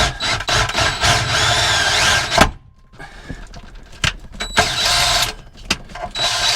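A power drill whines steadily, cuts out briefly, then starts again with a harsh metallic grinding as it bores at an angle through an aluminum boat hull for a transducer, loud and close.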